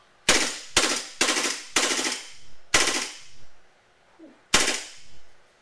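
A WE G18c Gen 4 Glock gas blowback airsoft pistol fires in full auto: six sharp, loud bursts of rapid clattering shots with short pauses between them, close by with no talking.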